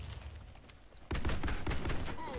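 Viper gun in the video game Warface fires a rapid burst of close, loud gunshots after a quieter moment of background game noise.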